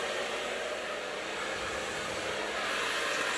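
A hair dryer blows steadily while drying long hair, a constant close, loud airy whoosh with no talking.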